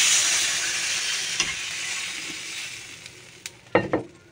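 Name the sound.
water poured into sizzling fried spice paste in pan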